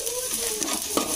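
Potato fried rice masala with coriander and mint leaves sautéing in a pan, a steady close sizzle with light scraping stirs and a brief clatter near the end, no talking.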